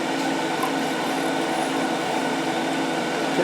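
A wood lathe spins steadily while a wooden spinning top is turned, a continuous even whir with a faint high hiss throughout, close and unbroken.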